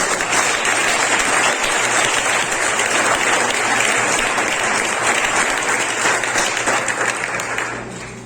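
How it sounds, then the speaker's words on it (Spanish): A church congregation claps loudly at a pastor's urging during a sermon, a thick steady wash of many hands that holds for several seconds before tapering off near the end. "Bríndale un fuerte aplauso"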